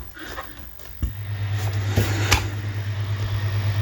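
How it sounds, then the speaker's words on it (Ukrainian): An electric fan powered through a battery inverter at a country house hums steadily at close range, a low constant drone that starts after a click about one second in and continues to the end. "І пробую мінімальне навантаження вентилятор."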